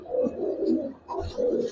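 Giribaz and colored pigeons cooing close by, several soft throaty coos rolling one after another with short pauses.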